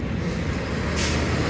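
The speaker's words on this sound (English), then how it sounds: "The truck just came down here." A truck rumbles past on a quiet secondary country road beside an old 1800s cemetery, a loud, close, broadband roar that swells near the end with a hiss like an air brake.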